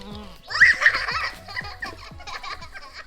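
A mother goat with a newborn kid lets out a loud, wavering bleat, followed by a few shorter, quieter grunting calls up close.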